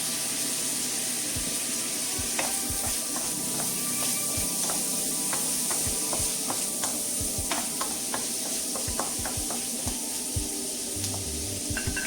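Cooking wine sizzling in a hot wok with cured pork and garlic shoots, a continuous hiss with frequent spatula scrapes and clicks as the food is stir-fried, close and steady.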